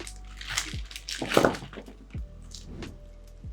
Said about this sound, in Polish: I wrzucam pezy.